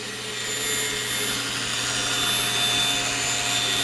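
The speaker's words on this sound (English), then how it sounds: "Now, I'm just going to follow that shape on the bandsaw." A bandsaw runs steadily while cutting a wooden push stick shape in a woodshop, a continuous whirring hum with a faint rasp of the blade through the wood, loud and unbroken for the whole stretch.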